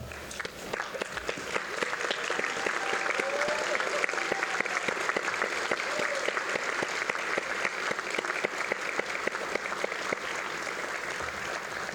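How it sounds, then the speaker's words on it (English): Graduating students at an Augusta University fall undergraduate commencement give a long, even round of applause, a dense wash of many hands clapping throughout a large hall with faint crowd murmur beneath. "Students, if you are able, please stand and give all those who helped you along the way a round of applause"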